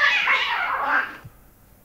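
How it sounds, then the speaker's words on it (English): A cat yowls loudly after being caught by a dog, one long strained, wavering caterwaul lasting about a second, then cut off into quiet. "my dog has caught a cat"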